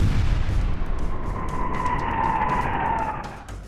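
Cannon fire from an 8-inch Columbiad at a coastal fort returning fire on a Union attack: a loud, sustained roaring blast rumbles steadily and fades toward the end.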